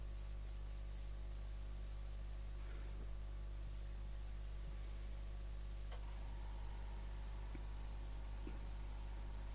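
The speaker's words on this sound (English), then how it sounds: "I guess there was something clogged in the airbrush itself." A partly clogged airbrush gives off a steady hiss with uneven spray, broken by a few short sputtering bursts and a brief stronger gush near the start, over constant background hum.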